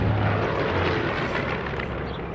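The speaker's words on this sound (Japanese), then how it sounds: "飛んでいます。 戦闘機ですね。" A fighter plane flies overhead in the horror video game Martha Is Dead, a loud, broad, steady engine roar that holds throughout and eases slightly toward the end, with no voices.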